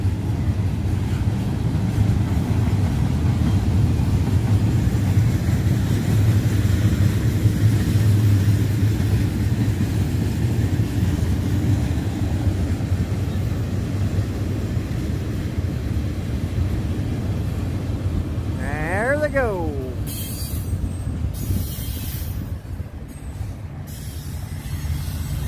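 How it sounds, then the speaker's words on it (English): A Union Pacific SD70M locomotive pulls an intermodal freight train past on a cold day, giving a sustained low rumble and rolling roar that stays loud throughout, with a brief squeal and clanks near the end. "Now that's a SD70M going by."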